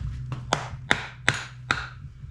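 A plastic hammer taps an engine part four times during a timing and rear main seal reseal on an SRT-4 engine, each tap a sharp, close knock spaced about half a second apart over a low hum.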